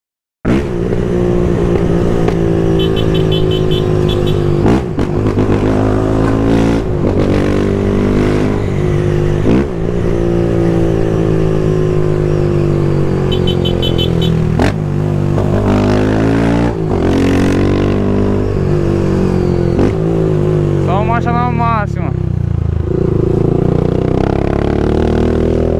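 Honda CB Twister 300F motorcycle engine revving loudly and continuously at night, with repeated throttle blips rising and falling in pitch, a few sharp clattering scrapes from the exhaust touching the ground.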